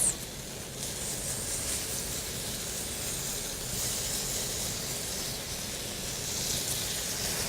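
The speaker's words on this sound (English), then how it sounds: "let's glaze the steak with the reserved mole sauce and cook for an additional 3 minutes" Mole-glazed steak sizzling on a grill, a steady broadband hiss and spitting crackle that holds evenly throughout with no voices.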